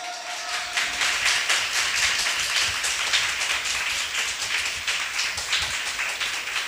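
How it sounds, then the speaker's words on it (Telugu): A church congregation clapping hands together in worship, a dense continuous patter of many claps held at a steady, fairly loud level for several seconds. "చప్పట్లు కొట్టు."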